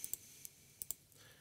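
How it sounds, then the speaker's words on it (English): A computer mouse clicks an OK button several times in a quiet room while a signal decoder is set up, five or six crisp, faint, irregular clicks. "So we click OK a few times."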